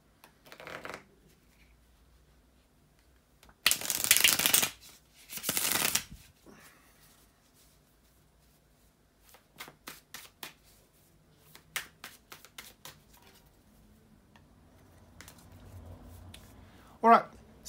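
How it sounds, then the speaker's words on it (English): Tarot cards riffled and shuffled by hand in two loud close bursts, then quieter taps and card handling before a speaking voice. "here to shuffle the tarot cards"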